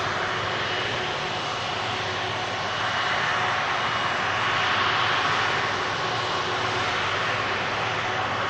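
An airliner departing Manchester Airport, its engines giving a steady, sustained roar that swells slightly in the middle, heard from a moderate distance with no voices.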